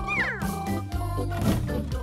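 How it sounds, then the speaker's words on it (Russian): A toy-like cat meow rising and falling over a tinkly musical background, short and clear. "Кошечка мяу."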